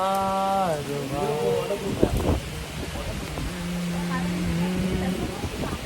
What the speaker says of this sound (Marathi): मस्त पाऊस पडतो एकदम मस्त